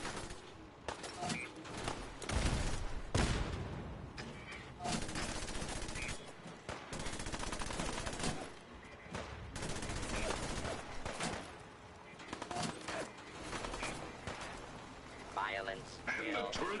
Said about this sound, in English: The cannons are ready. Fire at will. Blast them with everything we got.